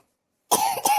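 After a short silence, one person gives a single close, harsh cough burst with a second push at the very end.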